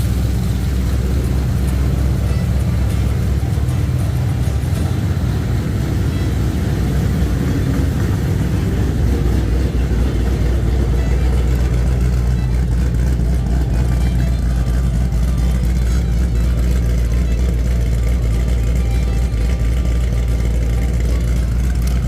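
A Camaro with an LS3 engine runs steadily and loudly up close as it backs out under its own power, a deep continuous engine rumble with no talk over it.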